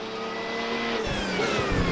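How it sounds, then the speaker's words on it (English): An Audi R18 prototype racer in the iRacing sim at Barcelona gives off a steady high electric whine from regenerative braking, layered over loud continuous engine roar with rising and falling tones, no voices. "You can actually hear that whine. That is me hitting the brakes and it regenerating energy."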